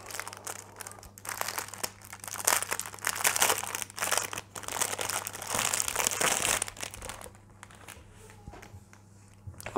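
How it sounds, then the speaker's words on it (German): Infinity cube being unpacked from its packaging, close and continuous crinkling and rustling of plastic wrap with sharp crackles, easing off into quieter handling near the end. "Jetzt packen wir ihn einmal aus."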